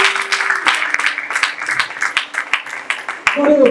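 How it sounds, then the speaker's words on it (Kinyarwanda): Church congregation applauding during a sermon, a dense, fairly loud burst of clapping from many people, with voices mixed into the applause. "Komera Imana amashyi menshi."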